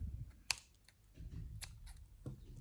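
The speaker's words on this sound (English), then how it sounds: "cut the yarn off" Scissors cut crochet yarn close up, giving a couple of short crisp snips over quiet handling noise, with no talking.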